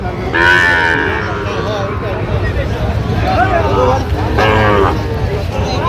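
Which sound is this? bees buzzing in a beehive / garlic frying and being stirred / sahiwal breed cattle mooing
sahiwal breed cattle mooing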